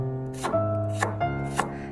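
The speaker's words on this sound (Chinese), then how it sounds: "再改刀切成蒜末。" A kitchen knife mincing garlic cloves on a cutting board, three crisp chops spaced about half a second apart, close and clear over a faint sustained tone.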